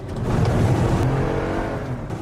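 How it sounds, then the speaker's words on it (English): A car engine roars loudly and steadily in a news report, a sustained revving drone that swells early and then holds before easing slightly, with no voices. "they make an editing error that makes it look like the car's engine is revving dramatically"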